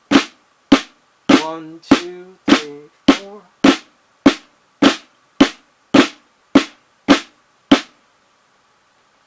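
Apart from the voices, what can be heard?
flam tap rudiment played on drum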